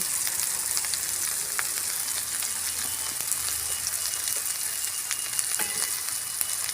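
Masala of turmeric powder, Kashmiri chilli powder and salt frying in a little mustard oil for a jackfruit-and-prawn curry, a steady close sizzle with scattered crackles and spoon scrapes throughout, no talking.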